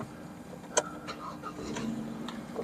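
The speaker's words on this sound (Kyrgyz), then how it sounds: "мотордун оталганы жакшы" A Hyundai Solaris car engine starts with a brief crank burst, then settles into a faint, low idle hum. The sound is quiet and close, with no talk.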